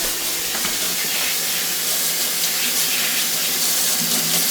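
Tap water runs steadily into a sink as aquarium plant debris and food particles are rinsed away, a continuous close splashing hiss with no voices.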